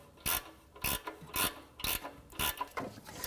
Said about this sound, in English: 14mm sockets and gear wrenches to go ahead, loosen and remove these two upper bolts.